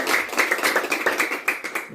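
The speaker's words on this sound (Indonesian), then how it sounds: "Oke, kita berikan tepuk tangan untuk semua yang sudah memperhatikan." A classroom of students applauding during a science lesson, quick brisk clapping filling two seconds, fairly close and lively, with no speech over it.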